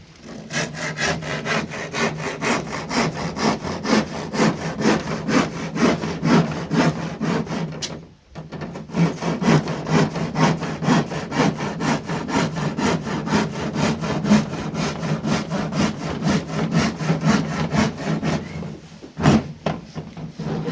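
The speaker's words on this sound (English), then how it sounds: "Joelle's over here sawing down, ripping it down into 16-inch strips." A handsaw rips steadily through plywood, cutting it into strips, in fast, even back-and-forth strokes, loud and close, with two brief pauses in the cutting.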